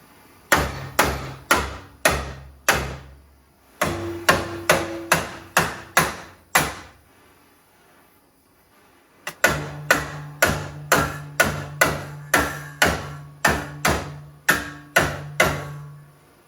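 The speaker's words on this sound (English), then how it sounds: "That's why I'm using this rubber mallet here, so I don't mar the" A rubber mallet hammers a steel part clamped in a vise while restoring a 1971 Monte Carlo SS454, landing close, loud blows in three bursts of quick, even strikes separated by short pauses.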